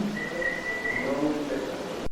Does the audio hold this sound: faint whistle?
yes